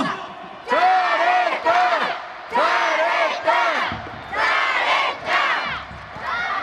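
A baseball stadium crowd of fans shouts praise in unison after a player interview, with loud rhythmic chanted bursts separated by short pauses, like a cheering section calling out together.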